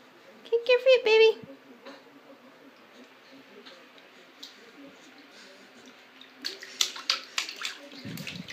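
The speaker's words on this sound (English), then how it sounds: "Splash the water, baby." A baby splashes and kicks in bath water, with a burst of loud splashes near the start, then quieter sloshing and a second run of sharper splashes near the end, with an adult voice talking over it.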